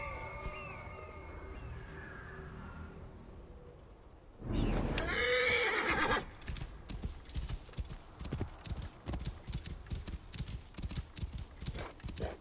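A horse whinnies loudly mid-way in Assassin's Creed Origins, then hooves pound in a fast, steady galloping rhythm that continues to the end.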